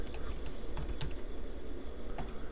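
Soft, quick keystrokes on a computer keyboard tap irregularly over a steady background hum, faint and close, with no speech.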